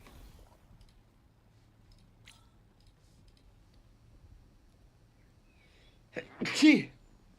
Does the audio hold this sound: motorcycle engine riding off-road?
no